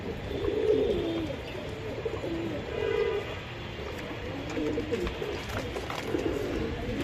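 A pair of pigeons for sale coo in soft, low, rolling bursts, three or four times, over a steady murmur of background noise.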